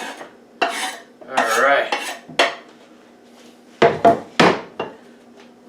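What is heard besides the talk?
steak dumped into a frying pan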